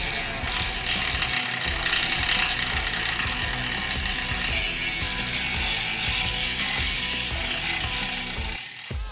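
A tool cuts into a gloss carbon fiber fairing on a Harley motorcycle, producing a close, continuous rasping grind with rapid rhythmic clicks throughout.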